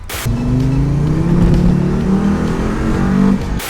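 Engine of a VW Golf GTI Mk2 swapped to a five-cylinder revs hard and steadily for about three seconds, its rising, buzzing note loud and close, with no one speaking.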